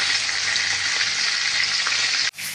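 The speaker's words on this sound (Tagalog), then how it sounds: "Malapit na rin maprito yung una kong piniprito." Chicharron pork rinds frying in hot oil, a steady dense crackling sizzle heard up close and fairly loud, ending with an abrupt cut and a brief shift in the sound near the end.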